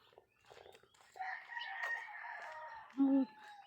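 A rooster crows once, a drawn-out call ending in a short low note, fairly near against a quiet background.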